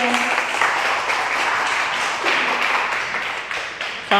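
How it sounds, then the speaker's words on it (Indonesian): An audience at a parenting talk applauds a speaker being introduced, a steady, moderately loud clapping that runs throughout with slight swells and dips. "Berikan tepuk tangan."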